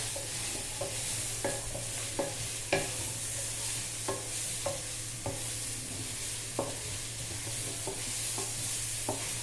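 Drumstick pieces and onions fry in a pan for an egg curry, a steady close sizzle broken by repeated sharp scrapes and taps of a spoon stirring against the metal.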